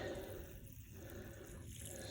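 Faint, continuous rush of water running through an old tank to flush out soap, a steady low wash with no voices.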